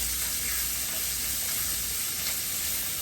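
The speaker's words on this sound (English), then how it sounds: "let's introduce some onions. Allow the onions to become translucent and fragrant" Onions sizzle in a pan over browned residue from cooked meat, a loud, steady hiss and crackle up close with faint stirring, no voices.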